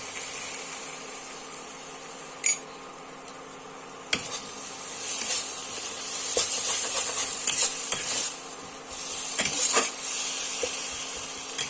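Spiced masala with freshly added chopped tomato and salt sizzles in a pan for a cauliflower and potato curry, with steady frying hiss broken by repeated scraping stirs and occasional clanks of the spoon against the pot.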